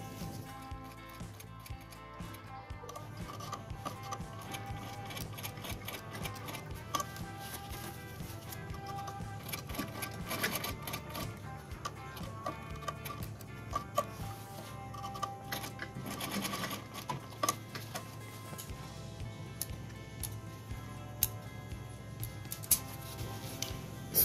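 A domestic sewing machine stitches around a buttonhole in fabric, a fast close rattling hum in bursts of rapid needle ticks with short pauses between runs, with no talk.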